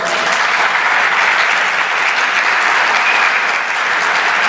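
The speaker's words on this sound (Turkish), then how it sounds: "alkışlarla" Steady, loud applause from an audience at a Turkish gathering, sustained evenly throughout with a few whistles and no speech over it.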